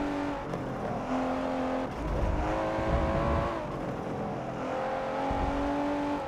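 A Liberty Walk Nissan GT-R, nicknamed Godzilla, snarls through a race in Forza 7, its engine droning and rising with shifting revs, heard alone with no talk.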